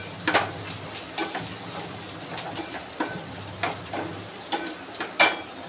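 Green chilli, red chilli powder and spices stirred into guar bean and potato sabzi in a pan, giving soft scraping strokes every second or so over a faint steady sizzle, with no talking.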